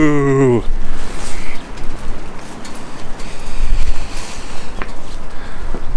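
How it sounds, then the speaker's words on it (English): Wind gusts roar outdoors at home after a long Harley Electra Glide Classic ride in cold Pennsylvania weather, loud buffeting microphone rumble that rises and falls, following a brief tonal sound at the start. "Let me step in here so it's not so windy."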